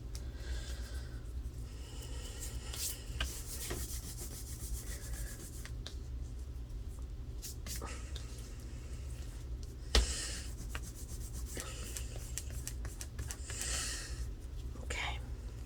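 Rubbing excess glue off the spine of a handmade journal built from a Little Golden Book, a steady close dry rubbing and scraping against a constant low hum, with one sharper knock partway through.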